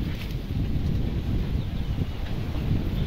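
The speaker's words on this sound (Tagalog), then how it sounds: "tignan nyo mahangin dito sa amin" Strong wind buffeting the microphone, a loud continuous low roar with gusty fluctuations.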